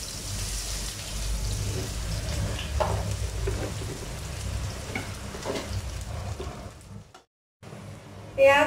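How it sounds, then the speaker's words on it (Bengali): Chopped onions fry in a pan with cumin and garlic, a close steady sizzle with stirring scrapes, briefly cut off near the end before a short clatter. "পেঁয়াজ ভাজা হয়েছে"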